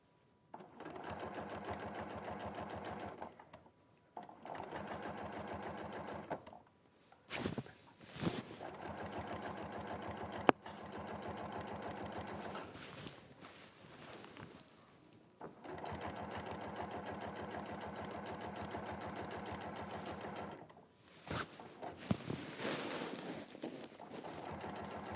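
A sewing machine stitches corduroy fabric in long steady runs of fast rhythmic whirring, each burst broken by short pauses and a few brief clicks, heard close with no talk.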